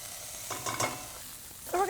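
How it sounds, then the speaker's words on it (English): Onion and garlic sautéing in a pan over medium-low heat, a soft low sizzle with a few brief stirring scrapes and a faint clink at the end. "So we're going to saute this for about 3 minutes."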